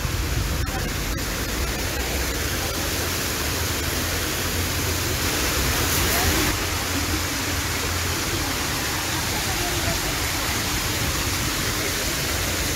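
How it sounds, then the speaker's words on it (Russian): The Adam and Eve fountain in Moscow, near Novokuznetskaya, pours out a steady, loud rush of splashing water, a constant close wash of noise with no breaks. "Сейчас я вам покажу этот фонтан."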